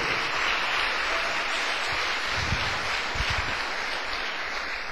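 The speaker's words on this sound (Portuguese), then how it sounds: "dá uma salva de palmas para o Senhor" A church congregation claps in praise during a sermon, a dense wash of applause filling the room continuously, with a few low thumps and murmurs mixed underneath.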